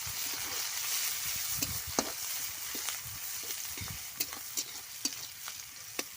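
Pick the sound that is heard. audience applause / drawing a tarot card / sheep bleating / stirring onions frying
stirring onions frying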